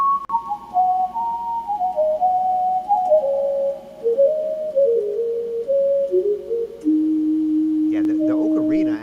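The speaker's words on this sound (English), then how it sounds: "the ocarina actually sounds better than the flute in mine" Electronic ocarina voice from music software plays a slow, steady sequence of pure, sustained notes stepping downward in pitch, clear and alone, with a brief burst of warbling, wavering tones near the end.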